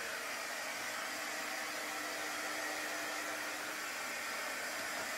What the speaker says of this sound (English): I'm going to dry it real quick